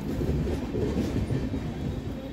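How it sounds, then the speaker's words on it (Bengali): An empty train pulls into Asansol Junction with a steady, close rumble and rolling clatter of wheels on rails that continues throughout without a break. "পাশে যে ফাঁকা ট্রেনটা ঢুকছে"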